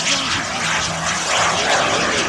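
Flashjet model jet aircraft with a turbine of about 22 pounds thrust making a medium-speed pass, a loud, steady, rushing engine roar close by, no talk.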